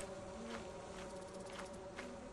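Faint buzzing of bees from the video game Lethal Company hovers steadily in the background, with soft rhythmic pulses under a low, even hum.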